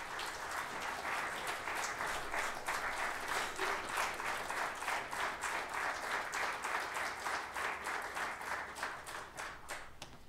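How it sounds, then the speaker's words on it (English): An audience at a memorial lecture event applauds with continuous, even clapping that sounds moderately distant and fairly soft, carrying on steadily for about ten seconds. "So I'll give a big round of applause."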